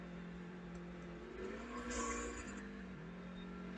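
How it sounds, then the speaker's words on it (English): A 2017 Hyundai Sonata engine, parked, runs up against its rev limiter, giving a steady droning hum that swells briefly in the middle of the short clip, fairly loud and with no talk over it. "Rev limiter."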